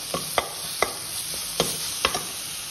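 A spoon stirs gongura soya granules curry with green chilli and garlic paste in a pan, five or six distinct scraping knocks spaced irregularly over a low, steady hiss, close with no speech.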